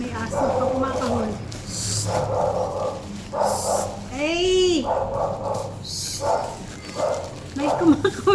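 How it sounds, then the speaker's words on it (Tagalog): A dog barks repeatedly nearby in short, sharp yaps and yips mixed with whimpers, while a person talks over and between the barks. "may kumakahol na aso."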